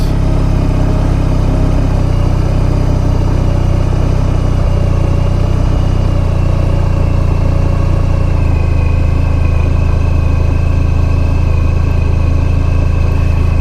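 A 1994 Honda ST1100 touring motorcycle cruising on a morning ride makes a loud, unbroken engine hum over road and wind rush, its tone shifting slightly midway.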